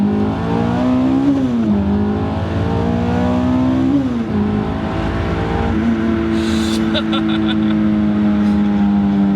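A supercharged Honda S2000 engine revs and climbs through gears from a 40 mph roll, the roar rising in pitch, dropping at each shift, then pulling hard again, loud and close.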